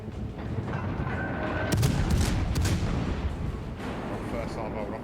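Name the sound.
naval gun salvo firing in a warship video game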